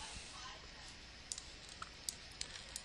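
Computer mouse clicks while changing Windows language settings, a few faint, sharp single clicks scattered over quiet room hiss.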